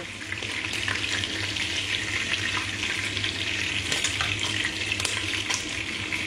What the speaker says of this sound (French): pour faire un peu cuire mes filets